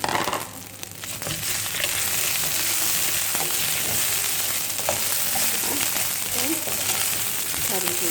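Rice tipped into a pan of golden-brown frying vermicelli, giving a steady loud sizzle with scraping and stirring throughout.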